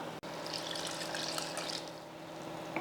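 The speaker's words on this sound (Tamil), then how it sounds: "இப்போ இதில் தண்ணி சேர்த்துடலாம்" Water pours steadily into a pan of turmeric-spiced sambar mixture on the stove for lentil-free idli sambar, a continuous close splashing gush with no talk.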